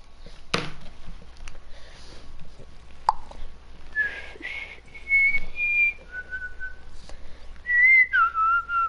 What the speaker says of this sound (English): Hey, no whistling.